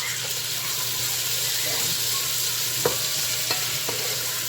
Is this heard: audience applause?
no